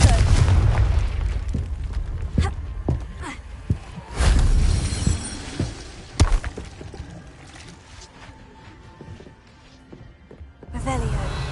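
A Confringo blasting spell going off in Hogwarts Legacy, with several sharp booming blasts scattered among game music and effects, loud and close, one heavy burst standing out mid-clip.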